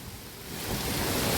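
Heavy rain pours outdoors on a farm in a dense, steady roar that swells louder over the short stretch, close and continuous, with no voices.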